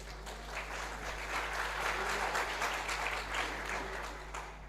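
Sustained applause from an audience at an All India Rathore youth convention in Hodal, Haryana, a steady dense clapping that holds for several seconds without any speech over it.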